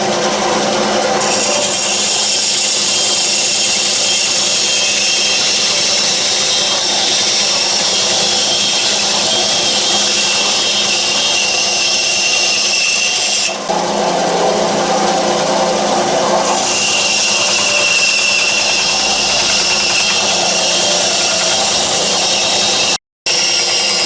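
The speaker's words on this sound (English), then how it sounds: "Then we're just going to go over to the tiny little bandsaw." A tiny bandsaw cuts through a piece of wood for a small boat's rudder, a loud steady whine that holds constant, dips in tone midway, then carries on before cutting off abruptly near the end.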